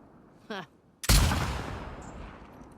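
One sharp, loud sniper rifle shot in The Last of Us Part 2 rings out and decays into a long, rumbling echo, preceded by a brief vocal sound.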